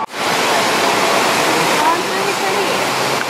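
Water rushes steadily outdoors in San Antonio, a loud, constant broadband roar like a stream or small fall, with faint voices barely under it.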